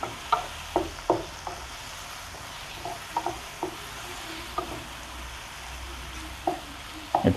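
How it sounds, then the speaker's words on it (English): Steady sizzling of brinjal frying in coconut oil, with intermittent clinks and scrapes of a utensil stirring the pan at close range. "It's really smelling nice when you're frying."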